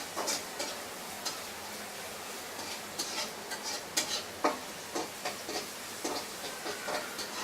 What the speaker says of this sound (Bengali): এখন পেঁয়াজ কুচিটা আমি নেড়ে নিচ্ছি।